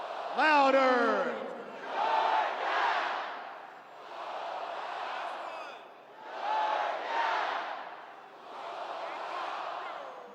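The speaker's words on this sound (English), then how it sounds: "The North Stands yell Georgia. The South Stands yell Bulldogs." Huge Sanford Stadium crowd at a Georgia football championship celebration, stands answering each other with the Georgia Bulldogs chant in loud rolling waves of massed yelling that swell and fade in turn.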